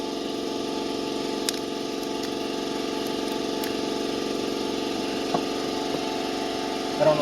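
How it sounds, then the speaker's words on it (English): Air compressor running steadily in a workshop, a loud, constant droning hum throughout with a few faint clicks and knocks over the top. "I apologize for the compressor"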